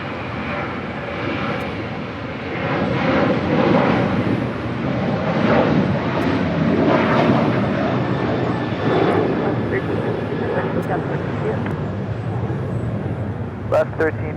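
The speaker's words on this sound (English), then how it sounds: "Next departure, Alaska Airlines Flight 1352, heading to San Jose, Costa Rica, 737-800." Alaska Airlines Boeing 737-800 jet taking off at Los Angeles International, a broad sustained engine roar that builds early and holds steady, with a radio-style voice talking over it.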